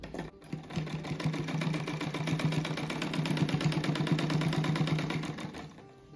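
A sewing machine stitches a beginner's rug, its needle hammering in a fast, even mechanical rhythm that runs continuously for several seconds close to the microphone, starting and stopping cleanly with no talking over it.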